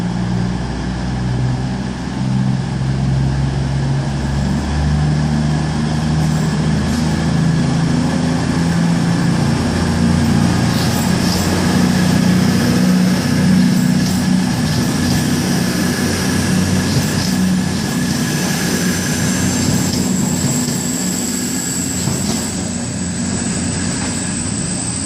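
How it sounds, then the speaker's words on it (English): A CrossCountry train pulls out of Exeter St David's for Paignton with a loud, sustained diesel engine drone and rumble that stays steady throughout, with no talk over it. "You've got this cross country service to Payton now leaving."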